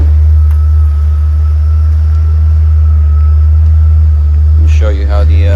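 A 1994 BMW 850 CSI in Hellrot with 74k miles idles steadily, its deep low engine rumble continuous and close throughout, with a brief mechanical clatter near the end.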